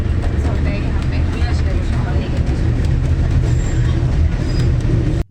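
The Darjeeling toy train from New Jalpaiguri rolls along its rails with a loud, steady rumble and clatter that cuts off abruptly at the end.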